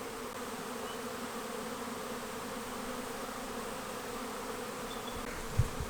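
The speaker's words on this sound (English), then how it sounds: "The buzzing around is so nice." Bees buzz steadily through a spring garden in Australia, a dense, continuous drone from many insects at close to middle distance, with a brief soft bump near the end and no talk.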